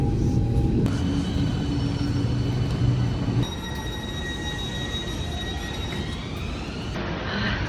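A train arriving at a railway station on a foggy morning, with a loud continuous rumble, rolling wagon noise and a sustained whine that shifts partway through, heard alone without talk.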